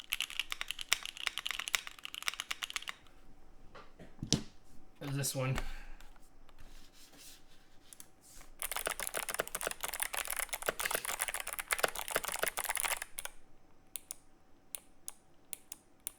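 A Wooting magnetic switch computer keyboard is typed on in bursts of fast, crisp, clacky keystrokes, loud and close, with pauses between runs; someone speaks briefly in the middle of the typing.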